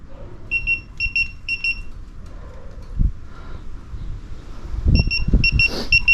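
Repeated electronic beeping in short paired bursts from a car during an alternator install, sounding in a few groups at the start and again near the end, with low rumbling thumps and background noise between.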